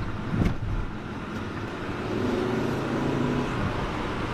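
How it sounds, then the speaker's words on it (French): Volvo C30 T5 turbocharged engine pulling hard in third gear from low speed, a steady broadband roar with a rising tone, heard from inside the car on a road. "c'est le turbo qui vient faire son effet"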